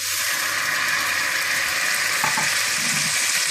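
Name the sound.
butter heating and sizzling in pan for zarda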